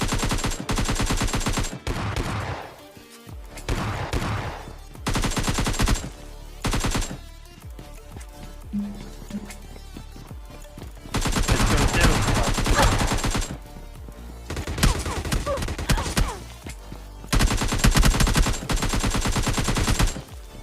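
Gunfire in the PUBG battle royale game, including an S12 shotgun, arrives in loud, dense bursts of rapid automatic shots separated by brief quieter gaps.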